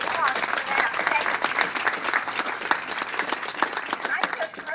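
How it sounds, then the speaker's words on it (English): A crowd at a county government gathering applauds, a dense, even wash of clapping that holds steady for several seconds at moderate volume. "Let's have a applause for that"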